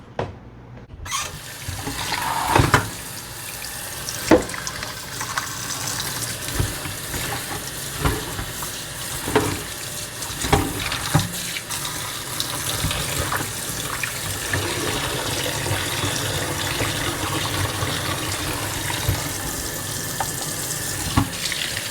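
Tap water runs steadily into a sink as ribs are washed, a close continuous splashing stream with irregular knocks and splashes from handling, no talk.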